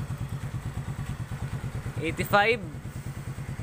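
Rusi Royal 125cc motorcycle running at its top speed, a steady rapid thumping engine pulse with a brief clatter partway through, while someone talks briefly over it.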